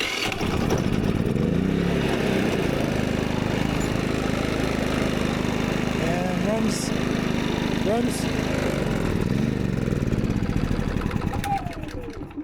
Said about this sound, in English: runs like a new generator again